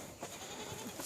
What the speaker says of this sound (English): Here you can see their goats, majorly for the milk purpose they do keep.